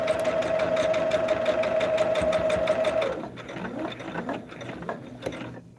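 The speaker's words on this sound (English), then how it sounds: "We're gonna sew on that solid line." A sewing machine stitches quilt pieces along a marked line, running with a fast, even mechanical clatter and a steady whine for about three seconds before slowing to a halt with a few final clicks.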